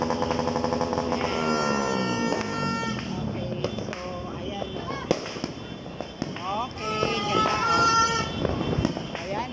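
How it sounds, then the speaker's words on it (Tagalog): New Year fireworks bursting in a residential neighborhood, a dense run of crackling pops and bangs with a distant engine hum, continuous and fairly loud, while people talk and react throughout. "Kita-kita po yung mga fireworks, to. Mga fireworks display."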